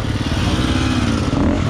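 Motorcycle engine running steadily at close range during motoball training, a continuous buzzing drone with slight rises in pitch and no pauses.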